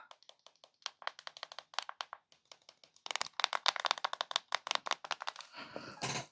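Rapid, crisp button clicks on a Clicks Power Keyboard, starting as sparse taps and building into a dense, louder run of close-up keypresses near the end.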